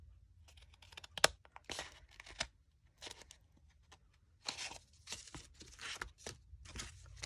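Scissors cutting a paper template for a patriotic stars and stripes pattern, short bursts of crisp snipping and paper rustle in separated strokes, close and quiet, with no voice.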